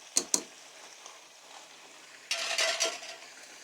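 Roast meat frying over a high flame in a pot for Pindi-style pulao, with a few sharp spoon scrapes at the start, then a steady, louder sizzle and clatter as it is stirred.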